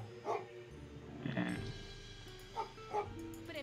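Dog barking in the video game Age of Empires 3, a few short yips and barks spaced across the moment, mixed with game sounds and quiet background music.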